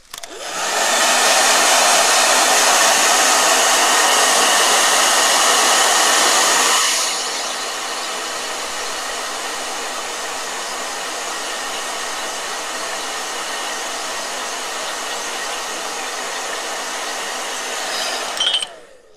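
A blow dryer runs steadily for nearly twenty seconds, loud and close at first, then dropping to a lower, quieter setting midway and droning on before switching off.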